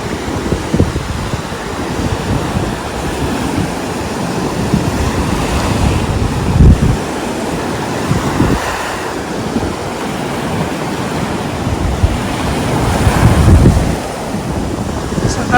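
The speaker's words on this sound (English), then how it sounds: "I love the sound of the waves." Ocean surf rolls and breaks steadily on the beach at Alykanas, Zakynthos, a continuous near wash with swelling crashes and some wind buffeting the microphone, no voices.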